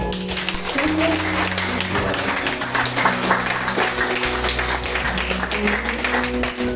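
A church congregation applauds in praise, a dense, steady wash of many hands clapping that lasts several seconds, with sustained instrumental tones running underneath.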